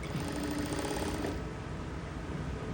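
A power sewing machine stitches fabric in a continuous fast mechanical whir with a steady rhythmic chatter, close and loud, and no talking.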